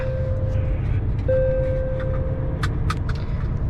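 A car rolls along a road with a steady low engine and tyre rumble from inside the cabin, a faint tonal hum running through it and a few soft clicks and knocks near the end.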